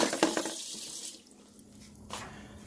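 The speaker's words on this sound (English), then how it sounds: "Put some water in there so it's not as salty." Water runs from a kitchen tap into a pot while pork adobo is being cooked, a splashing stream that stops after a second and then briefly runs again, quiet and close.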